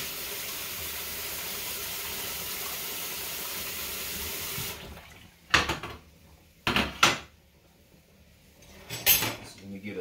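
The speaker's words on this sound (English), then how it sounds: "So, kind of rinse this rag off." A rag is rinsed under a running kitchen tap, with a steady rush of water for several seconds, then the tap stops and a few sharp clatters follow.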